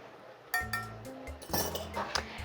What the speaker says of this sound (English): So I'm just gonna give it a stir.